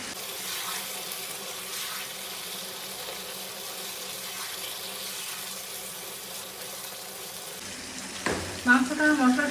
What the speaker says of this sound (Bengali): মাংসটা মশলার সাথে খুব ভালো করে কষিয়ে নিয়ে